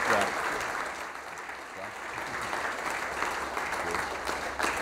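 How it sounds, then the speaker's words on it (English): An audience at a mayor's roundtable in Greentown applauds its panel of leaders: steady, dense clapping that fills the room for the full stretch, with voices talking over it. "I want everybody to give a round of applause to our panel of leaders."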